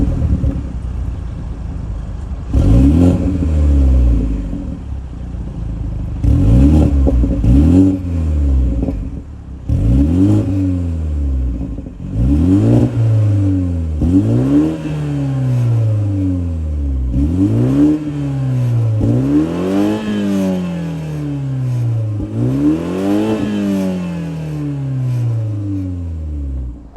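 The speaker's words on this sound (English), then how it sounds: "let's fire up this 2-liter inline 4-cylinder turbocharged engine and hear how she sounds." A 2024 BMW 330i's 2-liter twin-scroll turbocharged inline four-cylinder revs repeatedly from idle, about eight sharp rising-and-falling blips spaced a few seconds apart, loud and close with no talking.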